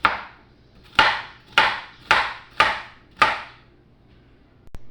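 Bitter gourd (ampalaya) sliced with a knife on a cutting board, six crisp evenly spaced chops close up, then quiet.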